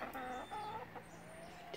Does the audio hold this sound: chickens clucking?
yes